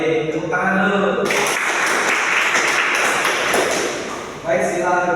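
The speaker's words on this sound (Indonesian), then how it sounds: "Oke, baik, tepuk tangan dulu." Classroom applause erupts suddenly after a teacher's voice, a dense burst of clapping that fills several seconds before fading back to talking.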